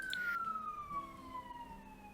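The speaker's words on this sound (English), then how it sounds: "An ambulance just went by." A passing ambulance siren with a sliding wail that drops in pitch as it moves away, heard faintly from outside over quiet background.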